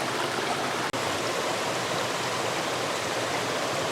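A waterfall on a Nova Scotia hiking trail pours out a loud, steady rush of broadband water noise that stays close and constant, with one brief dropout and no talking.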